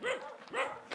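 A dog barks twice in quick succession at a rural community in Yécora, Sonora, Mexico, short moderately loud woofs with a faint yip at the end, with no talk.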